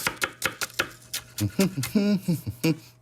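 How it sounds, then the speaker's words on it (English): A knife slices raw red onion into thin pieces on a cutting board, giving a quick run of crisp, close chops that settle into a steadier, slightly slower rhythm of cuts, with no talking. "the red onion, because you're gonna eat it raw, I like to cut it up really nice and thin"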